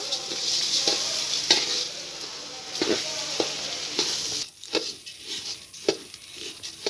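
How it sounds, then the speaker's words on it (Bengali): Raw rice fried with salt and whole garam masala for beef biryani gives a soft, steady sizzle broken by rhythmic scraping stirs. Near the end it turns quieter and patchier. "চালটা আমি ভালো করে ভেজে নেব"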